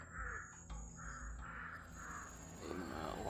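Several crows caw in a steady run of harsh calls at moderate distance, outdoors, with no talking.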